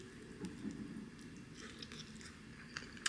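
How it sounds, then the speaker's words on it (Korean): Someone chewing guobaorou, Chinese crispy sweet and sour pork that has gone soggy, with soft close squishy bites and a few faint crunchy clicks against a quiet background. "이거 꼬바로우 먹어볼게요"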